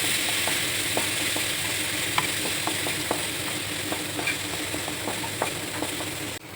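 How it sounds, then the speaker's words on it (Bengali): Pre-fried chickpeas lightly frying in a pan for a Jagannath bhog dish, a constant soft sizzle with scattered small pops and crackles throughout, close and alone without voices. "ছোলাটা আমার ভাজাই আছে, তাও একটু ভেজে নেবো হালকা করে"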